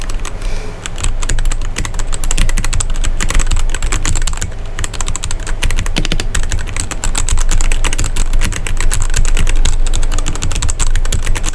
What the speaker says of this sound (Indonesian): Jadi macam mana dia punya sound untuk keyboard Magic Knight K500 ni, red switch.